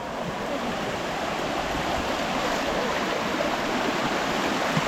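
Heavy rain pours down outdoors with enough force to threaten flooding, producing a loud, dense, unbroken hiss that holds steady throughout.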